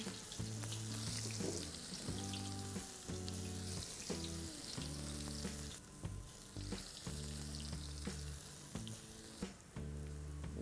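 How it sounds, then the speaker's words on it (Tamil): Small urad dal vadas for thayir vadai fry in hot oil with a continuous, close, crackling sizzle, while tuneful background music plays underneath throughout. "நான் இப்போது டக்கு டக்கு டக்குன்னு இந்த சின்ன வடையை போடுறேன்."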